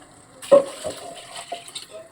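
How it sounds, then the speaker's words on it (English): Water is poured into a pot of chicken pepper soup, a few soft splashes and trickles close by, quiet and brief, with no talking. "Now we are going to be adding water."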